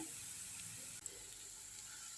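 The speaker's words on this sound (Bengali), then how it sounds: "এটা আরেকটু ভাজা ভাজা হবে" Garlic frying in mustard oil, a soft, even hiss of sizzling close by with a faint scrape of stirring midway, no voices.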